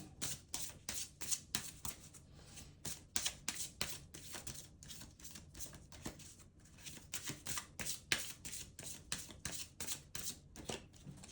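Oracle deck being shuffled by hand, repeated rapid riffling bursts of cards slapping together in an uneven rhythm, close but quiet with no speech.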